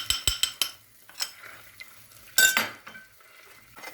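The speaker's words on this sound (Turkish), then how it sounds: "Karıştırıyoruz." Flour being stirred into hot oil in a pot for tomato soup, with a spoon scraping and clinking against the metal in a few sharp taps, then a soft sizzle and scraping swish, close and fairly quiet.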